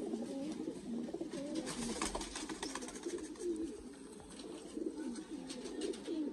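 A male Lakha pigeon in a breeder's loft coos in a low, continuous, rolling murmur, close by and steady, with soft fluttering noise above it.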